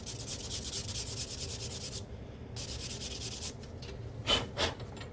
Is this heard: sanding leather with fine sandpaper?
yes